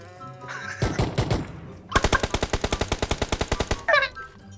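Automatic gunfire in the mobile battle royale PUBG Mobile: a short burst, then a long rapid run of about twenty evenly spaced, loud shots, with brief talk before and after.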